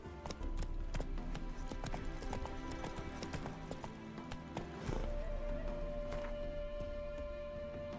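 Roach, the horse in Witcher 3, clip-clops along at a steady gait with rapid hoofbeats, a neigh partway through, and game music and ambience underneath.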